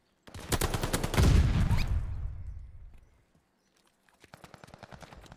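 Rapid gunfire in a ranked online shooter match: a dense, loud barrage of overlapping shots for about two seconds fades out, then after a short silence quieter, crisp single shots resume in quick succession.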